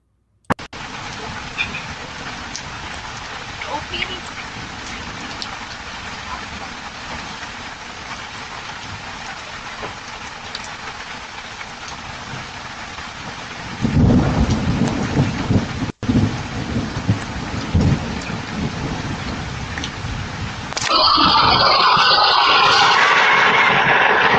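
Lightning strike with thunder during a rainstorm across a cul-de-sac: steady heavy rain hiss, then a sudden loud crack and rumbling thunder midway, and the downpour grows louder and harsher near the end.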